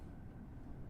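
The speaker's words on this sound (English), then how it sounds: "there's an Amtrak train." An Amtrak train in the Train Sim World 3 video game gives off a steady, faint low rumble that holds evenly throughout, with no voices over it.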